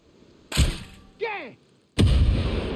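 In the video game Far Cry 6, a sharp rifle shot rings out, a brief voice follows, then a loud booming explosion rumbles on.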